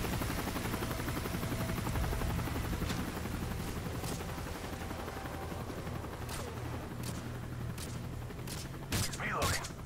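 Bursts of video-game gunfire from an iron-sighted weapon during a hostage-rescue mission against ultranationalists, scattered sharp shots over a constant low engine drone like a helicopter, with a voice talking throughout.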